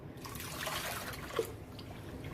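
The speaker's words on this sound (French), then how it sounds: "je vais couvrir tout mon couscous d'eau froide" Cold water trickles and splashes steadily over couscous grains as they are rinsed, a soft continuous pour close by with one brief louder splash partway through.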